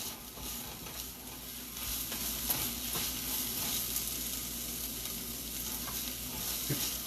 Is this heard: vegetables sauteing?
yes